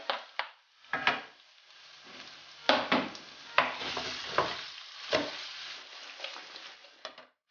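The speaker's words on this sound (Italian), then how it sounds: "dopodiché mettiamo a saltare la nostra seppia" Cuttlefish sautéed in a pan with olive oil, parsley and garlic, a crackling sizzle with irregular bursts of scraping and stirring, close by, fading out at the end.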